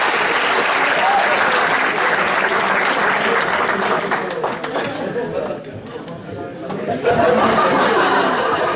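Audience applause at a seminar on emotional intelligence, loud and sustained, dipping briefly midway before swelling again, with crowd chatter and some laughter mixed in.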